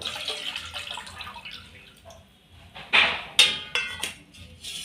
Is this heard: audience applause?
no